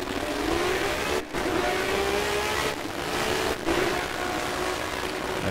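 Race cars in Project CARS lapping the Circuit de Catalunya, a steady loud droning engine roar with rising whine that briefly dips twice as cars sweep past, continuous and near.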